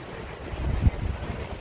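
Wind hits the microphone outdoors with a low, rumbling buffet that peaks in one strong gust midway, alone without speech.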